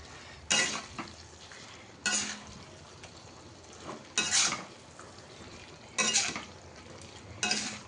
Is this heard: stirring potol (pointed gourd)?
yes